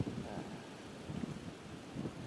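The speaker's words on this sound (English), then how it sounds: "The wind is blowing steady here at about 18, gusting to 30." Strong wind out on the water near Baltimore buffets the microphone in a steady low rumble, swelling in gusts around the middle and end, with no talk.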